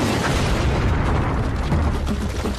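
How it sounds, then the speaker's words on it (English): A colossal siege cannon of 1453, built for Sultan Mehmed II to batter fortress walls, fires as a dense, continuous booming roar that stays loud throughout without a distinct single blast. "the largest cannon that had ever been built was put to devastating effect."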